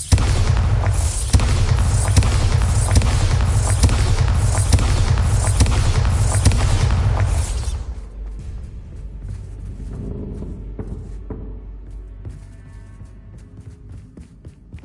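A Bombarda blast spell in Hogwarts Legacy roars in as a loud, sustained booming rumble for about eight seconds, then fades to a quieter low rumble with scattered small knocks.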